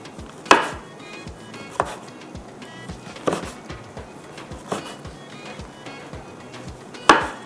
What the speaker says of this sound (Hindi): लेमन को स्लाइस में कट करेंगे